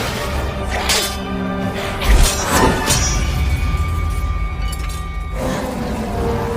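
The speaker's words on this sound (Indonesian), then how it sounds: "Namun sayangnya pedang itu pun hancur." Sword shattering as a film sound effect, a loud metallic crash and scatter of fragments amid swishes and dramatic music.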